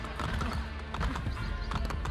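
Horse hooves clip-clop on city streets in Assassin's Creed Brotherhood, a quick, close rhythm of hard strikes over low game ambience.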